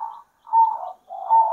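Zebra dove (perkutut) cooing at home, three smooth mid-pitched coos in a steady rhythm with short pauses between, close and clear with no voices.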